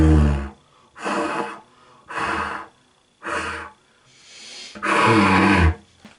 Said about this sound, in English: I am just blowing out, and here's what happens when I just blow.